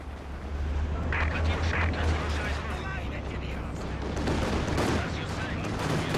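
An ISU-152 self-propelled gun firing in Company of Heroes during a 4v4 battle at Essen Steelworks, heavy booming shots over dense rumbling battlefield noise, with a voice talking throughout.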